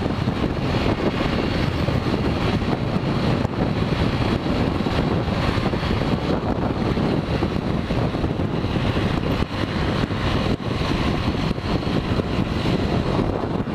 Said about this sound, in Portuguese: Nem adianta ficar muito aqui que você pega bastante vento